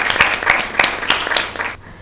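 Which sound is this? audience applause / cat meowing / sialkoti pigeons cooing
audience applause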